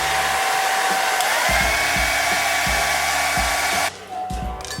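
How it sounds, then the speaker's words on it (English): A handheld blow dryer runs loud and steady on a synthetic lace front wig, then cuts off abruptly near the end, leaving only faint background noise. "use my blow dryer."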